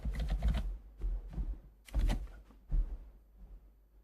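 Typing on a computer keyboard while entering a message into a website form: short clattering bursts of keystrokes, close and fairly loud, separated by brief pauses.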